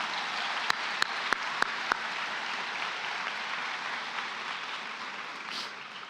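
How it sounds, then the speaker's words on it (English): A graduation audience applauds, a broad, sustained roar of many hands clapping from a large crowd, with a few sharp, louder claps standing out near the start. "Please give yourselves a warm round of applause for everything that you do."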